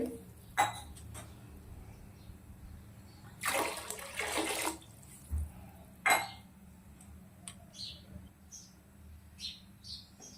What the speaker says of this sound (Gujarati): સૂપ બનાવવાનો છે એટલે આપણે હજી પાણી અંદર નાખવાનું છે